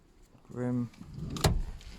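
Electric window on a Peugeot 207 1.4 Sport: a short steady motor whine of about half a second, close by, followed by a louder knock or thump, with no talk.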